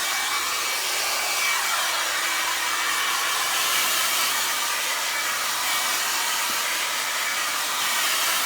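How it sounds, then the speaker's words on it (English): A hair dryer blows on freshly painted leather, a constant mid-loud airy whoosh and hiss that holds steady throughout with no voices. "Take a few more minutes to dry with the hairdryer."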